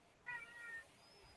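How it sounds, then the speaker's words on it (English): A cat gives a single short meow close by, a brief bright call rising and then fading, heard during a quiet moment of a tabletop game session. "it's one of Disco's cats."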